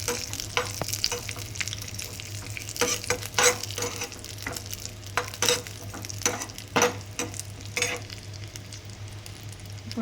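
Raisins are stirred into a hot pan with the stove switched off, producing irregular spatula scrapes and taps over a faint lingering sizzle and a steady low hum, close by.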